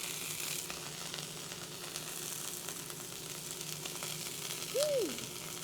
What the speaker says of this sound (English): So we're going to let that heat up and get grill marks on it.